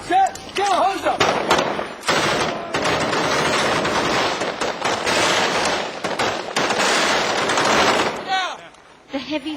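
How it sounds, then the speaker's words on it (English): Rapid bursts of M16 rifle fire during a Marine firefight against insurgents, dense and loud throughout, with overlapping shots, echoes and shouted voices mixed in. "Slow on M16s, like 2 bursts."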